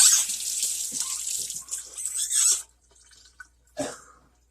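Celery sticks are rinsed under a running kitchen tap, a loud hissing stream of water that cuts off, then a short splash and a brief burst of flow near the end.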